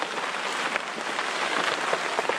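Steady rain falls at a winter campsite in the Catskills with temperatures in the mid-30s, making a dense, even patter with scattered closer drops hitting a nearby surface.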